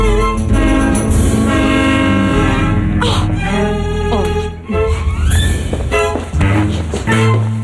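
Train horn blasting along a metro rail track, loud and repeated in long sustained blows over a dense musical backing, with no talk.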